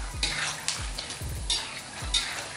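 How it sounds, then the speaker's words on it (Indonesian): Spice paste for an Indonesian base seasoning frying over low heat in a pan, with a steady sizzle, bursts of crackling pops and a utensil scraping as it is stirred, close up with no speech. "Nah ini dia udah mulai meletok-meletok guys"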